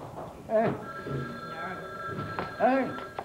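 A telephone bell rings in a French-language comedy scene, steady electronic ringing tones running under overlapping talk from several people.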